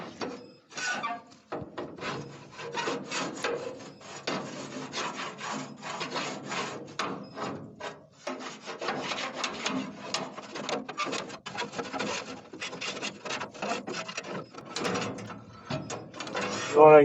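A metal cleaning tool scraping inside the heat exchanger of a WoodMaster CleanFire outdoor wood boiler, a continuous rough grating and rasping with irregular strokes and knocks, ending in a louder clunk.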